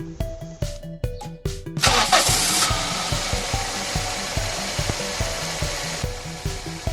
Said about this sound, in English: I'll put this back and start the engine.